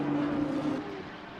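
A BMW GT race car engine roars up close and its pitch drops in stepped tones as it downshifts, then fades slightly, during a GT World Challenge race at the British Grand Prix.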